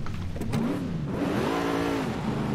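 A car engine revs under throttle in Forza Horizon 5 during a drift driven with a Fanatec DD1 wheel. The pitch rises and falls in smooth, loud sweeps close up, and no one speaks.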